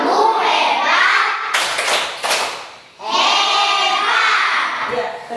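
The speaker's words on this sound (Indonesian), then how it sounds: "mari kita tepuk hebat untuk kita semua" Schoolchildren in an Indonesian elementary school classroom clap a rhythmic group clap, with dense clatter from many small hands, a brief break partway through, then more steady clapping close by.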